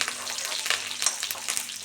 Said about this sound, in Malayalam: എണ്ണ ചൂടായി വരുമ്പോൾ രണ്ട് വറ്റൽമുളക് ഇട്ട് കൊടുത്തു അത് നന്നായിട്ട് ഒരിഞ്ഞ് വരുന്ന സമയത്ത് നമുക്ക് അതിലേക്ക് രണ്ട് കറിവേപ്പിലും കൂടി ഇട്ട് കൊടുക്കാം